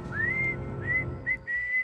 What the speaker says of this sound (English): the malignant ghost of the swagman has haunted remote waterways, whistling his mournful song